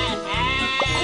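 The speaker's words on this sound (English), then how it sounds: "Sheep have wandered onto the tracks." Cartoon sheep in the Magic Tracks train video game give a brief close bleat, a single wavering cry.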